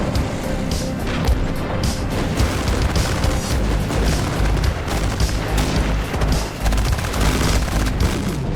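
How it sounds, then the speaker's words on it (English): Rocket strikes explode continuously in the war game Armored Brigade II, a dense barrage of heavy booms and rapid crackling blasts that roll on without pause, loud and close, with no voices. "I just can't seem to catch a break with these damn rocket strikes."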